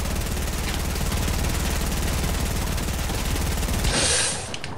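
Dense, continuous rapid gunfire in a video game rolls on for about four seconds with a steady loud rattle, then cuts off into a brief hiss at the end, with no talking over it.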